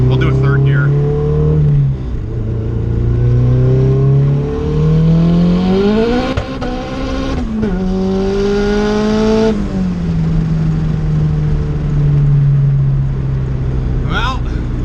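Honda Civic on street tires with boost control, pulling hard in third gear: a loud in-cabin engine note climbing steadily in pitch, a brief shift dip, then revving again, with someone talking over it.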